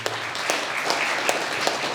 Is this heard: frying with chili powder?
no